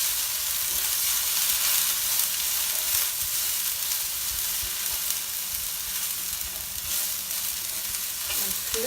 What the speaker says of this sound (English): And then I put the sprouts inside. And then I quickly stir it all together.